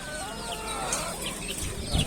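Chickens clucking and squawking amid a noisy outdoor poultry market bustle in Sakarya, Turkey, with calls scattered across two seconds over a steady background din.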